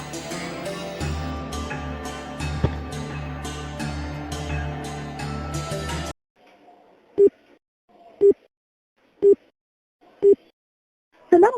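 A telephone dials a number in a short Tamil comedy thriller: five evenly spaced, loud, short tones ring out alone after a stretch of music fades to silence.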